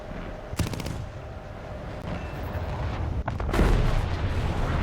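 Aircraft guns in the War Thunder video game fire in a short rattling burst, then a heavier rapid burst later, over constant loud engine and wind noise.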